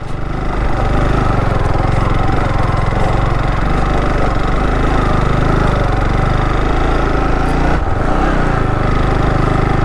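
A motorbike engine labors steadily on a muddy mountain road during a road trip to Kainthli Valley, with a constant loud drone throughout and a brief dip near the end, no voices.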